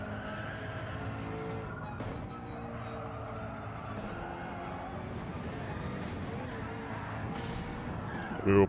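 A race car spins out in the Gran Turismo 7 racing game, with continuous engine drone and skidding tire noise throughout, rising to a brief louder squeal at the very end.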